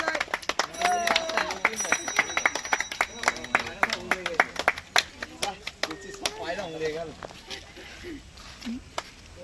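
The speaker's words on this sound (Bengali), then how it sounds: "হাততালি দাও সবাই" A small crowd claps in scattered, uneven bursts at the unveiling of the Choubaga Kali Puja committee banner, while people talk loudly over and between the claps.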